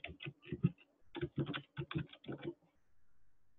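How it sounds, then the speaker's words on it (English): Quick, irregular keystrokes on a computer keyboard as a search term is typed into a software search box, close and quiet, in short clustered runs before falling still. "I'm going to type in living area."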